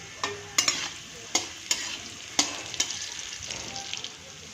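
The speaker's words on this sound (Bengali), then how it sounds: "কড়াইয়ে তেল গরম হয়ে এলে টুকরো করে রাখা আলু, তাতে নুন হলুদ দিয়ে লাল করে ভেজে তুলে নেব।" Pieces of potato fry in hot oil in a wok with salt and turmeric. A soft, steady sizzle runs throughout, broken by several sharp spatula scrapes and knocks against the metal.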